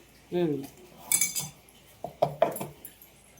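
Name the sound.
mixing rava medu vada batter in a bowl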